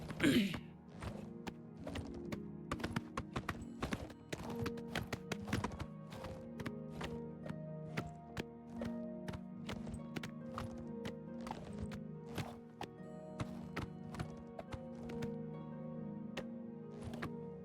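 Rapid hoof clip-clops from a galloping horse in the video game Elder Scrolls IV: Oblivion Remastered, steady and close, over a constant low musical drone, with occasional sharper thuds.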